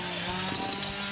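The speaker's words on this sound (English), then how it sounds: "the sound's just all chainsaws" Chainsaws carving a wood stump at a salmon festival wood-carving event in Port Alberni, a constant buzzing engine drone that stays loud and continuous throughout, with no talk.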